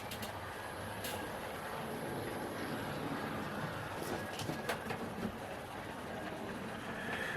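Bachmann Small Prairie class 4575 model locomotive running on a layout, a faint steady mechanical hum and rolling whir with a few light clicks, quiet and continuous throughout.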